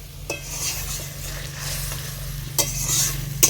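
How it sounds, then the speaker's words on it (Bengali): Boal fish curry gravy bubbles and sizzles steadily in a pan, with a few close clinks of a utensil stirring against the pan. "তো ফ্রেন্ডস, ঝোলটা কিন্তু খুব সুন্দর ফুটে উঠেছে।"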